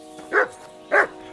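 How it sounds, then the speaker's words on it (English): Two sharp barks from wild dogs in the medieval game Kingdom Come: Deliverance II, spaced about half a second apart, fairly close and loud over a steady low game hum. "Wild dogs. You're not gonna listen."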